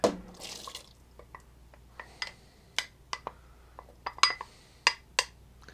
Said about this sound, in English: Now I'm going to add the corn.